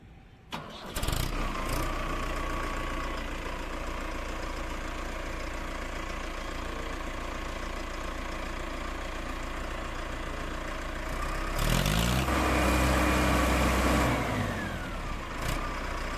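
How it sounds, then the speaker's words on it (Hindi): A Hindustan 60 tractor engine (2025 model) cranks and fires up, then settles into a steady, rumbling idle, with a brief rise in revs near the end. "हम ट्रैक्टर करते हैं स्टार्ट।"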